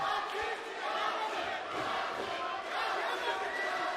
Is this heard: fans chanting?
yes